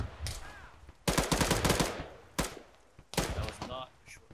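Long, rapid machine gun bursts from a military video game rattle out in two loud stretches separated by a pause, with a faint voice and small clicks between the bursts.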